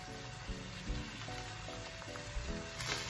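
Rice being stir-fried over high heat with khao man gai soup and other ingredients for Thai-style fried rice, a continuous close sizzle with occasional scraping stirs against the pan under a steady background hum.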